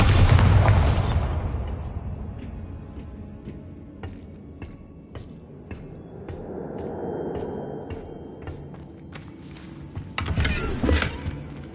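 Bombarda blasting spell exploding in a Harry Potter game, a loud boom at the start that rumbles and fades, followed by scattered clicks and a second, smaller burst near the end.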